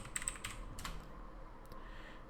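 Quick keystrokes on a computer keyboard, a short burst of close, crisp taps with a couple of louder key hits, no voices.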